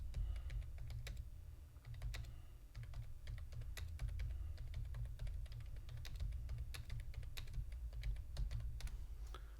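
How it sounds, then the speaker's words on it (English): Typing on a computer keyboard, a fast, irregular run of close, crisp key clicks over a low steady hum, continuing throughout with no talk. "I was just typing to a friend there."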